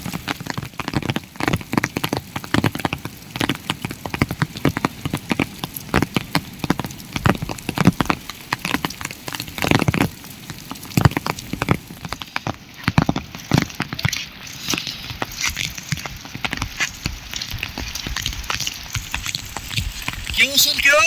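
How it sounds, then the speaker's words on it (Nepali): Rain falls on a rainy day in the Himalayas near a shepherd's camp, a dense, continuous patter of drops with crackling hits on surfaces, with voices talking intermittently over it. "अहिले पानी पर्यो"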